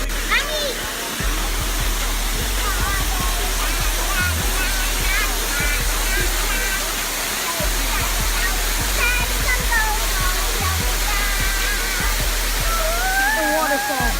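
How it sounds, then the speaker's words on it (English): A waterfall roars continuously and loudly up close, a dense, unbroken rush of falling water, while voices talk and call out over it now and then. "The waterfall."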